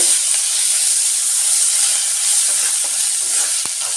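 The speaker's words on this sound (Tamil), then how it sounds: "ஒரு ஸ்பூன் இஞ்சி பூண்டு பேஸ்ட்டு சேர்த்துக்கலாம் நல்லா கலந்து விடுங்க" Onions, curry leaves and ginger garlic paste fry in a pan with a loud, steady sizzle and hiss, broken by a few soft scrapes of stirring.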